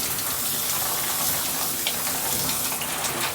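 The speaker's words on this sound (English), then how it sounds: "you can turn it inside out and power wash" A steady, hissing rush of water spray runs continuously and close, as from a power washer jet hitting an object, with no voices present.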